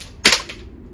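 A VFC gas blowback MP5 airsoft gun fires a quick double tap outdoors in cold weather, two sharp, loud, close cracks in rapid succession with no talking.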